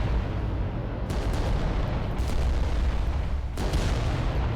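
Heavy Titan weapons fire in the video game Adeptus Titanicus: Dominus, a continuous booming barrage with a few sharper cracks standing out over the rumble, loud and close, no speech.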